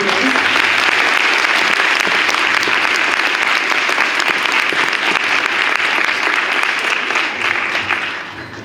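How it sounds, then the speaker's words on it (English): Sustained, dense applause from an audience at a debate tournament final, loud and steady for most of its length before tapering slightly at the end, with no talk over it. "Lastly, please give one more round of applause to all the debaters."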